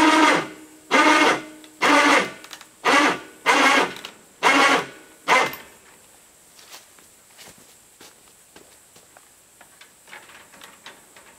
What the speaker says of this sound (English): using the gator winch, how I tighten my fence